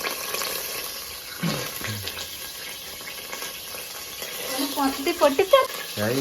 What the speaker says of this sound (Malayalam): എണ്ണ പൊട്ടിത്തെറി മാറിയോ